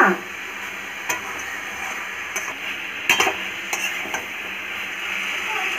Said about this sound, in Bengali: তরকারিটা কষানো হয়ে গেছে, ঢাকা দিয়েছিলাম, একটু কষবো।